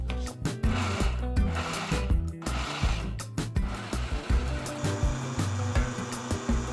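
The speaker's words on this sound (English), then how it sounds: "blend them up on high speed for about 5 to 10 minutes until they melt pretty much and are blitzed into nut butter" Countertop blender running on high speed, blitzing pecans into nut butter, a loud continuous motor roar with uneven churning pulses, no talking.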